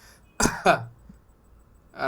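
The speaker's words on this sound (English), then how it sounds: "You will ask your patient to make a cough" Patient giving two short, sharp coughs in quick succession during an inguinal hernia examination, close and clear in a quiet room, followed by brief silence.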